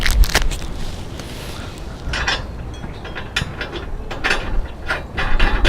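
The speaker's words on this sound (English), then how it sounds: "I've got some of these locking nuts that have like the nylon inside. And if I can get it open, I'm going to screw that on there." A nylon-insert locking nut being screwed onto a 3.5-inch bolt for a barrel grill, giving close, repeated ratcheting and clicking bursts with scraping metal contact, no talk.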